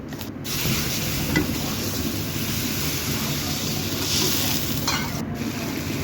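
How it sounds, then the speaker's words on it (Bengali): Ground spice paste of cumin, ginger, garlic, onion and chili powder sizzles and is stirred in a pan, a continuous close frying hiss with occasional scraping strokes. "মশলাটা সুন্দরভাবে কষাই নিব।"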